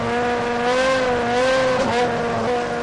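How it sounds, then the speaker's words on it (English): A race car engine revving hard during a gearbox shift check, a loud, continuous harmonic roar with slight pitch dips as the gears are selected, close up and with no talking. "a highly trained engineer performs a shift check to ensure the gearbox is working properly"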